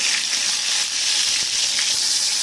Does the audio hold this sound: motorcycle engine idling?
no